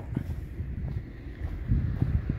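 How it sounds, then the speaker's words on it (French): Wind gusts over a microphone on the Spanish Atlantic coast, a continuous low rumbling buffet that swells and thumps irregularly, loud and close throughout with no talk. "il y a un petit peu de vent"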